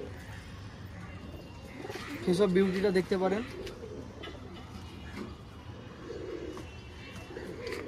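Male and female pigeons coo close by, a clear wavering call of a second or so rising above background murmur, while someone talks around it.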